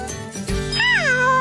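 A cartoon cat gives a single close, clear meow with a rising-then-falling tone, following a light jingle and a soft thump, with no talking over it.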